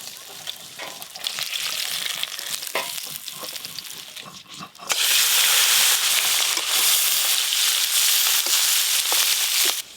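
Taror fish frying lightly in hot oil. A moderate sizzle with stirring clatter turns into a loud, dense, steady hiss of spattering oil in the second half. It plays without speech.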